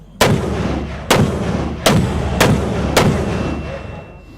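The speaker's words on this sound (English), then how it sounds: "The sound of mortars rings through the hills the next day as the fighting continues." Five heavy booming blasts of mortar fire, spaced roughly a second apart, each echoing and rolling away across open hills, during fighting in Badghis Province, Afghanistan.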